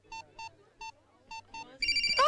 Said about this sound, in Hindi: मर गया मेरी बीवी का फोन।